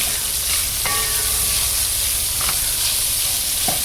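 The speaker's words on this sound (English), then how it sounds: "I'm going to add all my chopped vegetables. I'm just gonna stir." Chopped vegetables stirred with cooked turkey in a pan sizzle loudly and constantly, with a few sharp clinks of a utensil against the pan breaking through.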